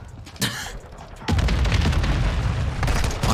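Gunfire from an FTAC Recon rifle in Call of Duty Modern Warfare 2, a sharp single boom followed by a sustained loud burst of shots and in-game noise.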